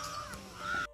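A crow caws once or twice in the open air near a Shri Ram temple in the morning, a harsh, fairly close call over faint background ambience.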